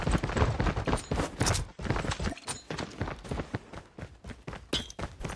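Rapid bursts of gunfire in a Call of Duty Mobile match, sharp loud cracks coming in quick clusters with short gaps, close and dominant.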